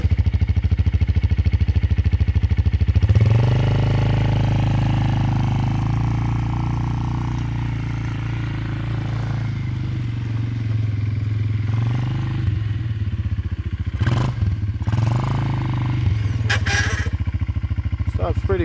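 A machine's engine runs steadily up close with a low mechanical drone and rattling clatter. Its pitch shifts as it is put in gear, and sharp clanks follow later. Someone talks over parts of it.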